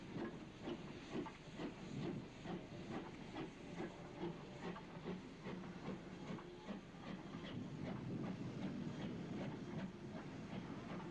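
A steam locomotive making false starts, chuffing in quick, steady puffs with hissing steam, heard from a distance, rhythmic bursts repeating throughout without any voices.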